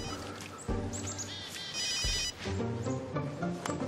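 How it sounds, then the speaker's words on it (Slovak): A mobile phone ringtone rings alone, a bright repeating electronic melody with chirpy tones that plays steadily for several seconds at moderate volume. "Mobil."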